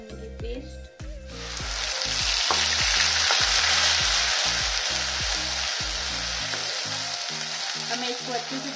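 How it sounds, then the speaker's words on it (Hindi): Paste for drumstick dahi curry frying and being stirred in a pan, a loud continuous sizzle with a regular rhythmic scraping of the spoon throughout, close by and alone. "अब मैं इसको अच्छे से भून लूंगी।"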